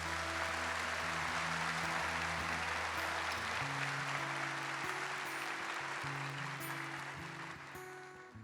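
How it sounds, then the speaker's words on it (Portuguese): A congregation applauds during a Catholic mass, a steady wash of clapping sounding under sustained organ or keyboard chords that shift pitch partway through. "Vamos dar uma salva de palmas para o Senhor."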